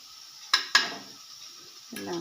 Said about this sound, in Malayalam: എല്ലാം കൂടി ഇട്ടൊന്ന് ഇളക്കാം.